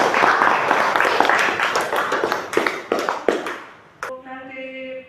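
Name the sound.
classroom applause for a student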